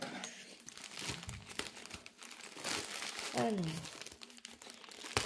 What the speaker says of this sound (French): à l'intérieur, on a une enveloppe bulle blanche